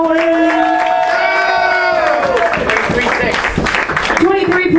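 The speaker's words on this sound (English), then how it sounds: "Clap for the poet, please." Audience at a poetry slam cheering and clapping loudly for a poet after her scores, with shouts and whoops rising over dense applause throughout.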